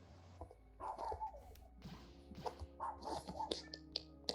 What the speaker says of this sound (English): I hear a puppy.